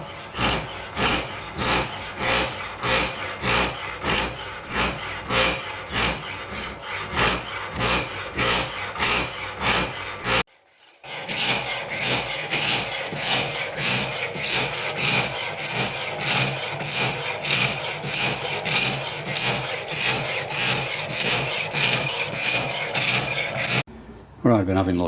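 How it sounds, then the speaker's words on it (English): A power hacksaw cuts through a metal bar in a workshop, its blade rasping in a steady back-and-forth rhythm, loud and close, with a brief break partway through before the strokes resume. "I've been having a look at the Power Hacksaw, see what the vibration is"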